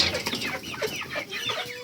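Several chickens cluck and chatter in a steady, overlapping stream, fairly close and moderately loud, with no talking.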